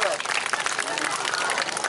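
Audience applause at an outdoor festival show in Tikhvin, steady dense clapping from a large crowd, loud and continuous across the short stretch with no pauses.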